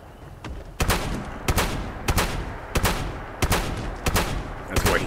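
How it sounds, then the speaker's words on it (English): The Cold Shoulder gun in Fallout 76 fires a steady run of about seven loud, sharp shots at an even rhythm, close and alone, with no voices. "Cold shoulder gun."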